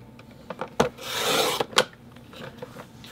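A paper trimmer slices through a scrap piece of cardstock, giving one sustained rasping cut between short clicks and taps, close and alone.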